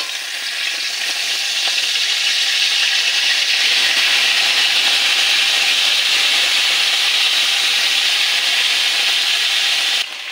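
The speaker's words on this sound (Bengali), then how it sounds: "এই তেলের মধ্যে আর একটু তেল দিয়ে দেবো, দিয়ে ফুলকপিগুলো ভেজে নেব" Cauliflower florets fry in hot oil, giving a loud, continuous sizzle and hiss that holds steady throughout with no talking.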